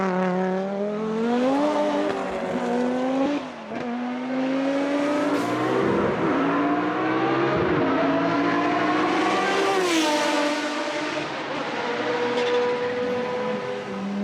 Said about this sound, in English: Now I'll just add some race car sound effects and I have my animation.